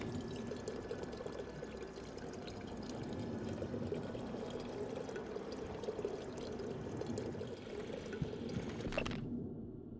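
Water dispenser in the video game Prey pouring a steady stream of water for several seconds, faint and continuous, stopping abruptly near the end.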